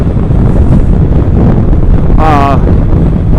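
Strong hurricane wind roars and buffets steadily in a loud, dense rumble throughout, with a brief voice breaking through for a moment.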